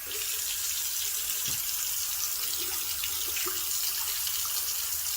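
Hot water gushes from a tap fed by a Thermomate ES250 mini-tank electric water heater, a steady close splashing rush into the sink with no pauses and no voices.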